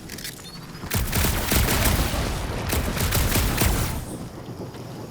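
Gunfire in the video game Guardians of the Galaxy on PS5: a dense, loud burst of rapid shots and booming impacts, a continuous fusillade lasting a few seconds before fading, with no talk over it.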